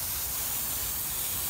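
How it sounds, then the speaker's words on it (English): Degreaser hisses from an aerosol can under a Toyota Hilux around the oil filter and subframe, a continuous close, steady spray with no pauses and no talking. "finish spraying up around the filter and all over the subframe to get rid of all that"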